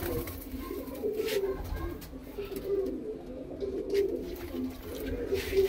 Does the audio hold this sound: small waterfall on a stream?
no